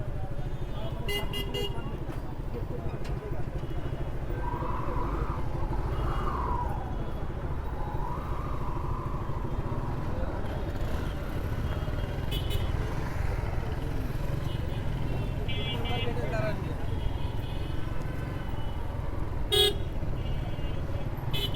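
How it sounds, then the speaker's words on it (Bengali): Heavy city traffic jam in Khulna: a constant engine rumble from cars and motorcycles, with short car and bike horn toots popping out now and then and a louder honk near the end. "ও রে কি জ্যামে, ঢাকার জ্যাম এখানে এসে পড়ছে।"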